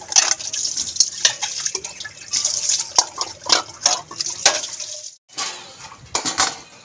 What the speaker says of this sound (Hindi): मैं बर्तन धो लेना